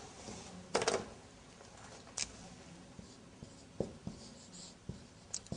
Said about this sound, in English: I will write down here